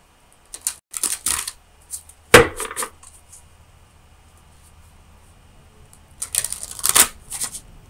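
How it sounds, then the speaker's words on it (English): Oracle of Visions cards are shuffled by hand in a few separate bursts of quick papery riffling and slapping, with quiet gaps between them. "let me get you a card from the Oracle of Visions"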